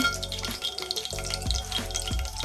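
Ghee and whole spices such as cinnamon, star anise, cloves and cardamom frying in a pan for chicken biryani, a close steady sizzle with a few stirring scrapes, over faint background music.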